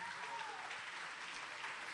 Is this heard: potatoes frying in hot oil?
no